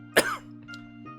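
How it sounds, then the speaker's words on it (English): One sharp, close cough bursts out and trails off into a brief rasp, followed by quieter throat sounds over a steady background hum. "it starts by listening to the commish cough"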